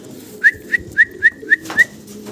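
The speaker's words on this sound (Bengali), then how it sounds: "এটা হলো আপনার long long face high flyer কবুতর" Long face high flyer pigeons produce six short, evenly spaced calls, each a brief rising note, close and fairly loud over a low murmur of background noise.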